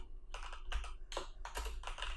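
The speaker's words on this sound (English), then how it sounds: "let's start typing our first HTML page" Fast typing on a computer keyboard while writing a first HTML page, with clustered bursts of crisp key clicks separated by short pauses, close and fairly quiet with no talking.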